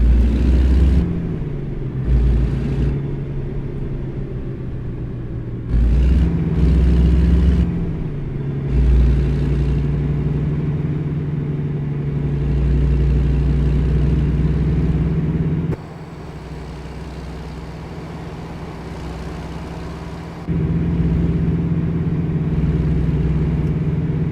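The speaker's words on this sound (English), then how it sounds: "This truck sounds real good." A heavy truck engine in the video game American Truck Simulator rumbles steadily, its low drone rising and falling as it revs and shifts, with a brief drop in loudness partway through.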